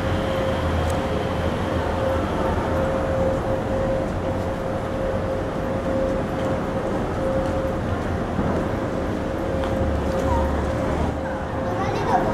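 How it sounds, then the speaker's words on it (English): A train rumbles past steadily for about twelve seconds during a 2019 trip in Kowloon Tong, Hong Kong, a continuous broad roar with a faint tonal whine, heard from nearby without talk. "Got a train."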